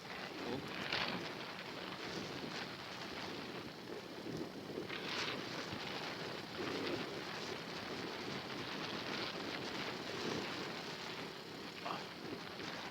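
Steady, roaring wind buffets the microphone while riding a motorcycle, a dense broadband rush with occasional louder gusts and no clear speech.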